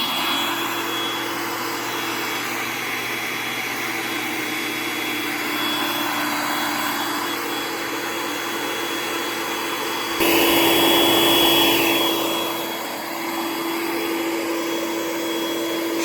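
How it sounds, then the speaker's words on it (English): An electric pump sucking the air out of an air mattress, a steady close motor whir that shifts in pitch midway as the load changes, continuing alone without talk. "or you can plug it in and suck the air out"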